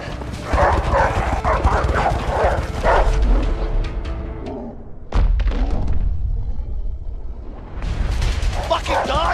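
Dogs chase through the video game A Way Out, with thuds, running footsteps and barking layered under loud shouting voices and game action, the din briefly dropping midway before surging again.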